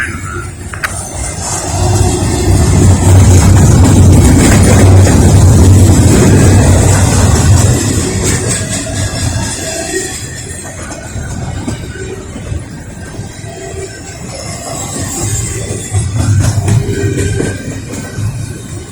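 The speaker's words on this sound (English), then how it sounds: "Yeah, the train is coming up here." Norfolk Southern train passing close by, a heavy rumble that swells loudly, then eases into steady rolling clatter with faint wheel squeals, and builds again near the end.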